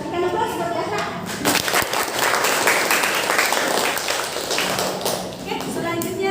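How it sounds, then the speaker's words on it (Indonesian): A classroom of students claps together for several seconds, a dense, lively patter of many hands with a few voices mixed in. "Kita berikan aplaus buat Jasra."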